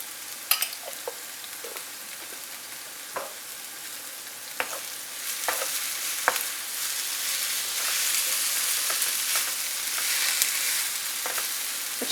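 Sausage and potatoes seasoned with salt and rosemary fry in a pan, giving a steady close sizzle broken by occasional sharp pops and spatters.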